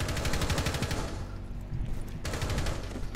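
Automatic gunfire fired through a wall in Rainbow Six Siege. A fast, rattling stream of shots runs for about a second, drops into a brief lull, then a second rapid burst starts and keeps going.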